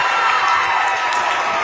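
Crowd noise fills a high school boys basketball gym after a two-handed dunk, a steady dense roar of cheering and voices held at one level for the whole short stretch.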